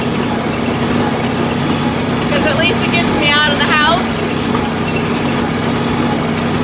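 A tractor engine idles steadily out on a pasture with a constant low drone, while a person talks over it throughout.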